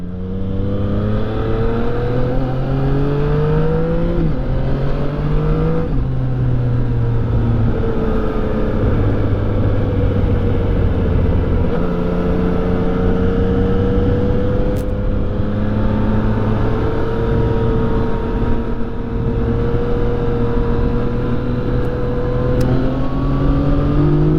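A Yamaha FZ09 motorcycle engine drones loud and close while riding, rising and falling in pitch through gear changes and throttle shifts over a steady wind-rush, with no voices.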